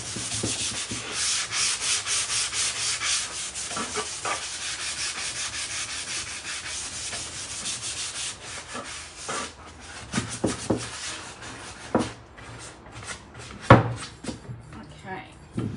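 Steady rhythmic wet-sanding strokes with a sanding sponge scrape across a wooden seat, using hemp finishing oil, with a few knocks and taps toward the end.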